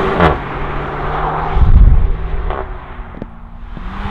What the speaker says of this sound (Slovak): A prdí to, keď preraďuje